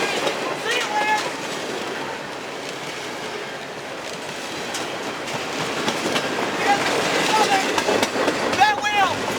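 A CSX freight train rolls past with a bad wheel, a steady rumbling clatter of rail cars that swells toward the end, with brief high squeals and people talking and cheering over it.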